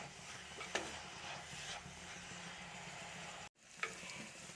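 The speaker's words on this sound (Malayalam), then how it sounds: "അപ്പം നമ്മുടെ ചട്ടിയൊക്കെ നല്ല പോലെ ചൂടായി, എണ്ണ നല്ല പോലെ ചൂടായി. അതുപോലെ നമ്മുടെ സവാളയും നല്ല പോലെ ഒന്ന് വാടി വരണം." Onions sauté in hot oil in a heated pan, a soft, even sizzle close by, with a couple of sharp clinks of a utensil and a brief drop-out before the frying hiss resumes.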